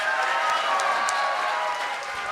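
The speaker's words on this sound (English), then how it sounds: "I think these guys deserve some applause themselves" Convention audience at a voice-actor panel for the Cutie Mark Crusaders applauding, a dense steady wash of clapping with some crowd noise that holds throughout and eases slightly at the end.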